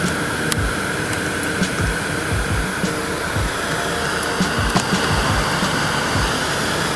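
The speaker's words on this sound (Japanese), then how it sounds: "ちなみにエアコン効くかな。" Air conditioning blower running inside a Mercedes-Benz W124 car, a steady close rushing whoosh of air with small clicks and rattles mixed in, continuous and without speech.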